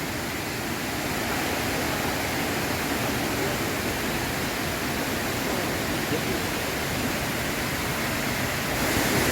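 Waterfall at Lam Nam Kraburi national park in Ranong, a steady loud broadband roar of falling water that continues unbroken and close throughout.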